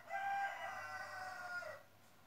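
A rooster gives one long, drawn-out crow, faint and somewhat distant, with no talking over it.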